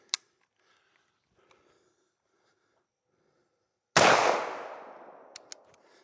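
A Vepr 12 short-barrel shotgun fires one loud, echoing blast on an outdoor range, followed moments later by two quick metallic pings from steel targets. Faint handling clicks come before the shot.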